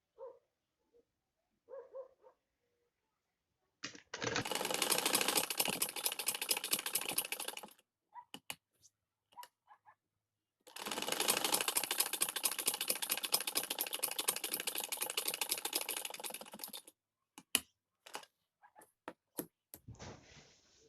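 A sewing machine stitches a design onto a folded sleeve cuff, running in two long steady bursts of rapid whirring stitches with short pauses and scattered clicks and handling noises between them.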